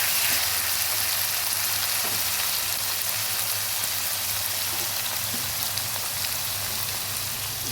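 Bay leaves, ginger and garlic frying in oil for a papaya chicken curry, a steady dense sizzle with fine crackling that holds evenly throughout, close and alone.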